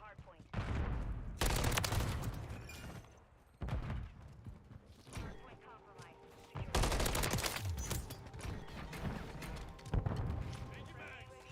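Shotguns fire in a Call of Duty match, several loud booming blasts and short bursts spread across the stretch, with a person talking over the gameplay.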